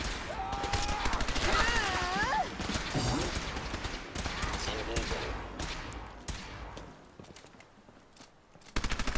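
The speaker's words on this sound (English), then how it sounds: "Stop shooting me!" Gunfire in the Fallout 4 video game, scattered shots and short bursts over game sounds and music, with a voice talking at times.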